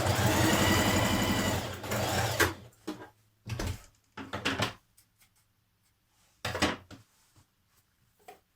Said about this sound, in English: we're going to stitch the shoulder seams